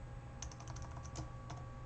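Quiet typing on a computer keyboard, a short run of light, scattered keystroke clicks over a steady low hum from a home computer setup.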